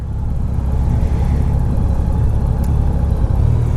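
A 2014 Honda Valkyrie motorcycle with a boxer engine is being ridden. A steady, loud engine rumble with whirring runs continuously throughout.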